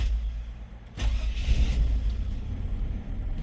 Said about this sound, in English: Seems like it has a touch of a rough idle, like nothing terrible